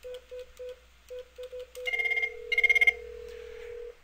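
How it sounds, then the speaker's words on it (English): Telephone call placed through a router: a string of short, evenly spaced dialing tones, then a steady ringback tone with bursts of a brighter ringing pattern on top, clear and close with no voices. "Let's go off hook and dial the number again."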